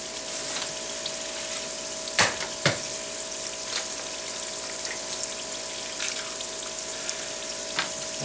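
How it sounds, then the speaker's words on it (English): Eggs frying in melted bacon grease in a small pan, a steady soft sizzle running throughout, close and alone, with a couple of brief clicks or pops along the way. "Let's get us a couple eggs here in this little pan right here. That little bacon grease melted down."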